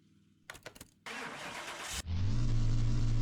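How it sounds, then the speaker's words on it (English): Ford Sierra RS500 with a TAE engine in the Car Mechanic game: a few starter cranks, the engine catching with a whoosh, then a steady, loud idle hum. "let's get this little TAE engine started and see what she sounds like."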